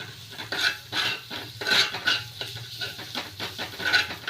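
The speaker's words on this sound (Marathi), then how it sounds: "हे चांगलं परतून घ्यायचं" Spicy chutney being stirred and sautéed in a pan for egg bhurji, a spoon scraping and clinking against the metal in a steady run of strokes, close and moderately loud over a faint sizzle, with no talk.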